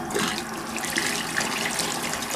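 Tap water runs steadily into a sink while a brush is wetted beside a bowl of Old Cahaba shaving cream. The hiss and splash are close, continuous and unbroken, with no voices.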